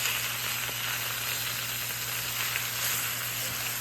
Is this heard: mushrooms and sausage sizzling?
yes